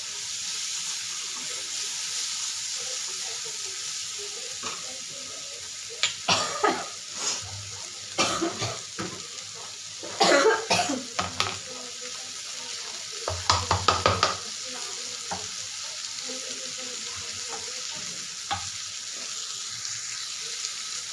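Chillies sizzle and fry in a pan while being stirred, a steady hiss broken by scraping stirs in clusters, close and fairly quiet, with no talk.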